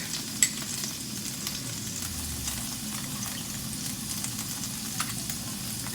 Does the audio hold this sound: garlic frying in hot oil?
yes